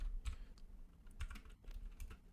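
Rapid, irregular keystroke clicks from code being typed on a computer keyboard, close and fairly quiet, in short bursts with brief pauses and no talking.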